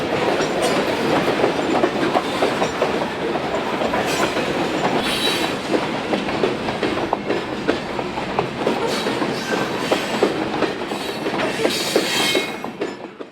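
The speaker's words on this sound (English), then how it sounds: "This train originated at the Grainland Co-op at Kruger, 80 miles west of here, and is bound for CSX interchange at Reynolds, Indiana" A Union Pacific and CSX grain train rolls past at close range on the Villa Grove Subdivision, with a continuous rumble and rhythmic wheel clatter over rail joints, loud throughout before easing off at the end.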